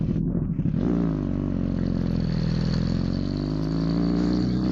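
A motorcycle engine revs hard and accelerates as the clutch is released for a wheelie, a loud, steady close-up roar with rising harmonics after a brief choppy start.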